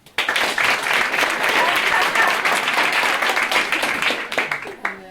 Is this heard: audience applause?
yes